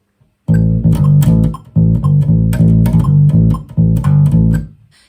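A bass guitar plays a bass line moved up a whole step to A, three loud repeated phrases of plucked notes with brief pauses, ending on a fading note, alone without talk.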